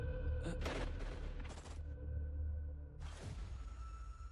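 Gunfire in a violent movie scene: loud, close bursts of shots that start and stop, with sharp cracks between them.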